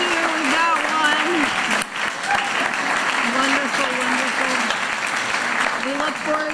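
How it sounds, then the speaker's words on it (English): Sustained congregational clapping for lay ministers during a Lessons and Carols church service, even and continuous throughout, with a person talking on top of the applause. "I would like to just give a round of applause for our lay ministers"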